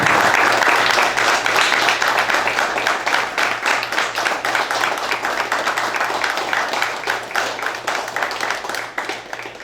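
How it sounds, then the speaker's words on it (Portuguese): An audience at a national meeting breaks into sustained applause, dense clapping that holds steady for nearly ten seconds and fades slightly near the end, with no voices on top. "Então eu queria propor aqui uma salva de palmas para o padre como nossa homenagem."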